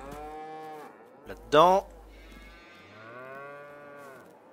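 Cows on a French farm moo in several long, deep, drawn-out calls, one of them louder and sharper, over a low rumble, while someone speaks briefly in French.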